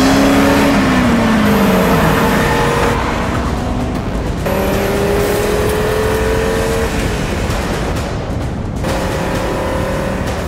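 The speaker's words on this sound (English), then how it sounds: "There is a certain sound. For those who know it, of instant recognition. An Audi is just around the corner." An Audi RS3's five-cylinder engine revs hard and loud, its pitch climbing and dropping through repeated gear changes with a brief tire squeal. The sound is close and sustained, with no talking.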